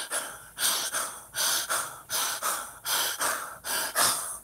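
A voice imitates someone breathing hard from fear, a steady series of about eight loud, rasping gasping breaths in a regular rhythm, close and alone.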